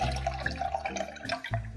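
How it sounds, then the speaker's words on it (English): A liquid paste mixture is poured from a mixing bowl into a cooking pot, a short, close, gurgling pour heard alone. "Stir it here a little bit and pour it into the"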